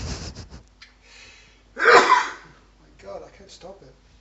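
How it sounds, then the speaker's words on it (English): A person sneezes once, loud and close, in the middle of a quiet stretch, with faint breathing before it and soft voices talking afterward. "Yeah, you sneezed."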